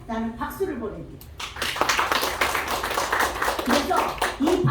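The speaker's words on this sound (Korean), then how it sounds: "우리의 원아시아의 이사장님으로 여러분들이 모셔주시는 것에 나는 박수를 보냅니다." An audience claps at a scholarship foundation event, the applause building into dense, steady clapping that carries on after a brief spoken introduction.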